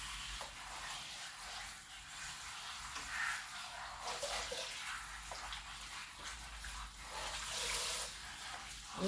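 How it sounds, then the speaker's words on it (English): Tap water runs steadily over freshly picked garden spinach being rinsed in a kitchen sink, a continuous broadband hiss and splash with small fluctuations, fairly close and without any voices. "I'm gonna rinse off the spinach."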